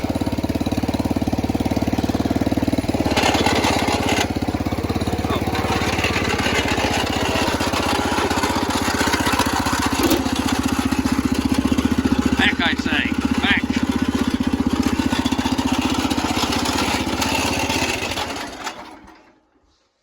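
A Sears Custom 10XL lawn tractor engine runs steadily on prime with a rough, buzzing drone, loud and close, for the whole stretch before it cuts out near the end.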